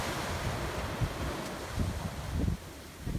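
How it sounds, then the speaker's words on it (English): Gentle ocean waves wash ashore on Cocoa Beach in soft, low rolling surges, mixed with steady wind buffeting the microphone; faint and continuous with no voices. "Don't know if you can hear the sound of the waves."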